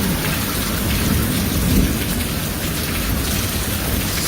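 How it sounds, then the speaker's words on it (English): Heavy rain pours down in a dense, constant roar, with a low rumble of thunder rolling underneath. "So much rain. It was horrible."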